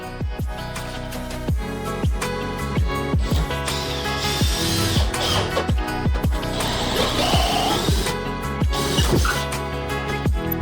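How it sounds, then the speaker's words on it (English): A power drill whirring in bursts with rhythmic pulsing strain, loud and close, interspersed with mechanical clicks. "Drill, but it's very deep."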